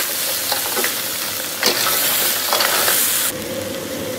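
Large river snails tossed with chili, Sichuan peppercorns, scallion and ginger in a wok give a constant close sizzle broken by several scraping spatula strokes and a sudden louder hiss near the end.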